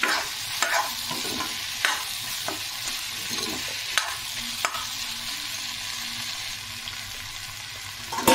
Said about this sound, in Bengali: তারপরে এটাকে আমি ভালোভাবে সবজির সাথে মিশিয়ে নেব।